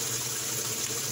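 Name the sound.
water filling a washing machine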